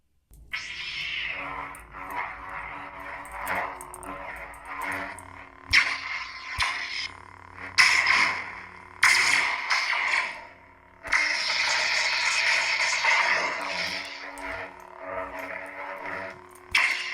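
A custom Krayt Slayer lightsaber hilt hums electronically throughout, broken by sharp crackling clash bursts and swooshing swings at irregular intervals, loud and close.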